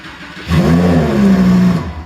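A Lamborghini Huracan engine cranks and fires, settling into a loud, deep rev close by for just over a second before easing off.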